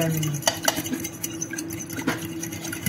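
A small fork stirring seasoned food in a dish or plate, with a few sharp metallic taps and scrapes against the vessel over a low steady background hum, close and fairly quiet, no talking.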